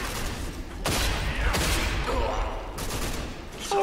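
Rapid bursts of video game gunfire, loud and close, several sharp volleys in quick succession over a steady background rumble.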